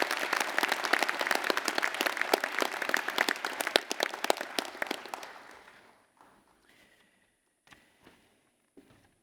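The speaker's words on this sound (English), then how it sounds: "Can we give Dr. Kiro another round of applause?" Audience applause for a speaker at a Massey University graduation ceremony in Manawatū, a dense burst of clapping that thins out around halfway and fades to a few scattered claps in a quiet hall.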